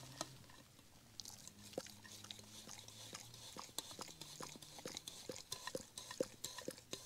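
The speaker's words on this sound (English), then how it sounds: "So if you hear some slurping and gargling, it's the dog in the background" A dog makes close, wet slurping and licking sounds in irregular bursts, with soft clinks and taps against a hollow pot, while wild camping in the Lake District.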